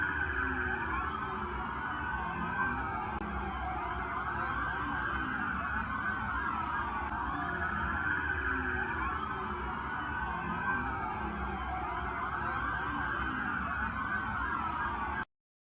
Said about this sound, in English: That was the police cars outside the Bayswater Mall in Miami.